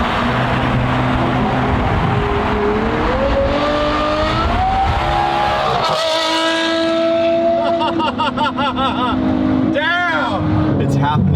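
A Ferrari Testarossa engine revs hard and climbs steadily in pitch toward 9,000 RPM, loud and close, with a rising whine and quick gear-change dips near the end.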